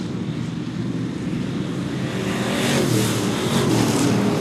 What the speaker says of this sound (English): Here comes the 29 of Elmer Wing, and Serdinsky is off the pace